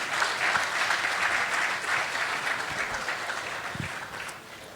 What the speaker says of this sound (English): Please, can we all give ourselves a round of applause?